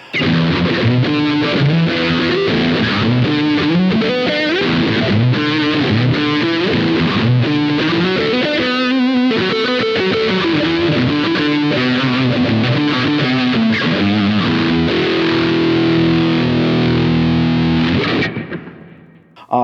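Heavily overdriven electric guitar through the drive amp model of a Boss ME-80 plays continuously and loudly, with sustained distorted chords and melodic lines, fading out abruptly near the end.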